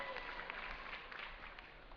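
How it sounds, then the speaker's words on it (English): A crowd at an MLG Dallas StarCraft II esports event cheers and applauds, a faint, distant wash of clapping and shouts that holds steady throughout. "give a cheer for Pain.User from Lazarus Gaming"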